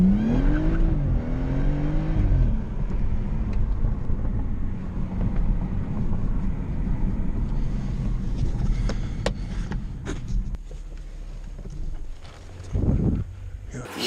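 A brand-new BMW M5 F90 on the move: an engine note climbs and dips early on, then settles into steady road and wind rumble with a few knocks near the end, while people talk throughout.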